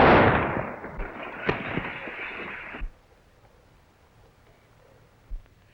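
Gunshots in the 1935 B-western Branded a Coward: a noisy burst of gunfire opens, sharp cracks stand out at intervals, then quiet before one final isolated shot.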